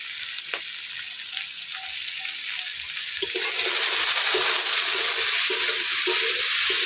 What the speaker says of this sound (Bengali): আলু বেগুন চিন দেখেন কত সুন্দর ভাজা হয়ে গেছে।